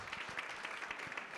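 Audience applause at the close of a business talk on non-profits and social media, a steady, dense wash of many hands clapping throughout, moderately loud and roomy, with no speech over it.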